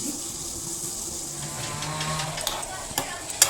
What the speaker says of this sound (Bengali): এইভাবে জলটাকে ফুটিয়ে নিতে হবে